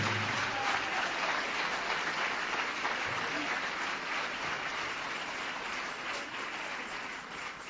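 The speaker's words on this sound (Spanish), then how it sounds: "Dele ese aplauso de alabanza y de victoria al Señor." A church congregation applauds in praise, a dense, steady wash of many hands clapping together that holds throughout at moderate level, with no words spoken over it.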